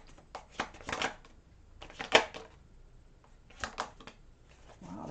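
Tarot cards are shuffled in three short bursts of riffling, each a rapid flutter of card edges, separated by brief quiet pauses.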